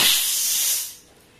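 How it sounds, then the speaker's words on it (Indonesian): Compressed air from a compressor blasts water out of an AVR air regulator, a loud, close hiss lasting under a second that cuts off sharply. "kita semprotkan dulu dengan angin supaya benar-benar tidak ada air di dalam ya"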